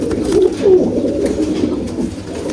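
Pigeons in a loft coo steadily, a low throaty murmur of several birds close by, rising in a couple of louder swells and then running on evenly.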